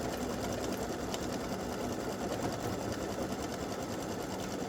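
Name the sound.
sewing machine sewing a satin stitch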